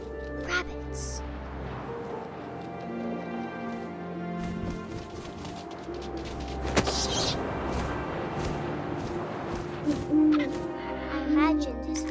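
An owl hoots in the video game What Remains of Edith Finch, soft repeated calls set against ambient wind and game music, with narration spoken over the scene.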